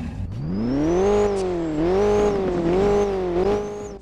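A McLaren convertible supercar in Roblox Driving Empire starts up, then its engine revs repeatedly, the pitch rising and falling in several loud, smooth swells with a whine above it and no talking.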